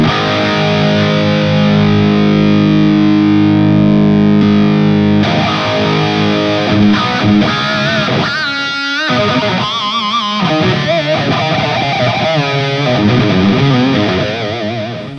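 An electric guitar plays through a Friedman BE100 amp on the BE channel with the boost engaged. The tone is loud, heavily distorted and compressed: sustained chords first, then a fluid soloing passage of bends and fast runs. Nobody talks.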